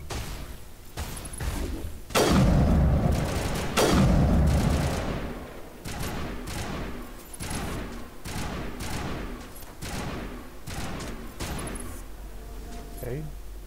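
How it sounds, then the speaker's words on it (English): Gunfire in the game Mass Effect, with two heavy booming blasts early on followed by a steady run of rapid, punchy shots at close range. "now there's something shooting"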